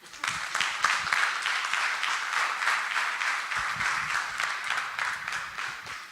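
A crowd at a union meet-and-greet listening session breaks into lively applause, with close individual claps standing out of the steady clapping and a few cheers near the end.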